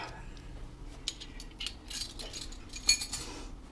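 A metal spoon picked up in a home kitchen, giving faint, scattered cutlery clinks and light taps, one sharper clink near the end, quiet and close.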